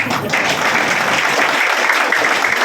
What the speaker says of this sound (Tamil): உங்க கைத்தட்டலே சரியா இல்லை